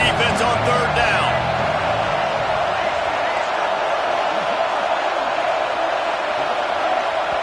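A stadium crowd at a Georgia vs Arkansas football game roars on third down, a loud sustained wall of cheering that holds steady throughout, with a commentator talking briefly at the start.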